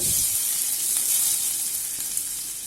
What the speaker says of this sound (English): Now once the seeds splutter, I'll be adding finely chopped onions.